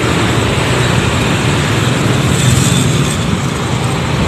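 Heavy roadway traffic with buses rolling past, a thick steady wash of engine and tyre noise that swells slightly midway, nothing else standing out.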